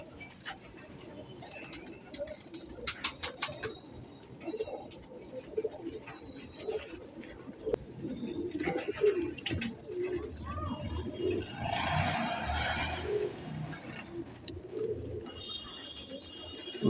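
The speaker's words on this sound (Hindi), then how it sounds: "आप ये देखिए एक कबूतर" A blue-eyed pigeon coos in repeated soft, throaty phrases close by, with someone speaking Hindi intermittently over it and some rustling and handling noise.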